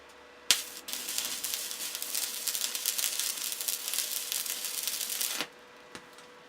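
Arc welding a tack weld on a steel compressor tank being made into a barbecue: a sharp strike, then about five seconds of continuous dense crackling buzz that cuts off abruptly, followed by a faint tick.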